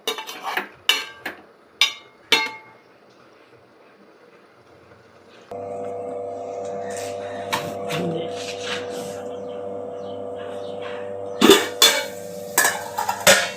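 Chicken frying in a pan for a Telugu cucumber-tomato chicken curry: a steady sizzle sets in midway after clinks of utensils against the pan, with scraping and stirring clatter near the end.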